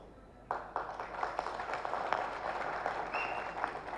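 An audience at a film pre-release event breaks into applause, a burst of many hands clapping that starts abruptly and carries on steadily in a hall, with a faint hum behind it.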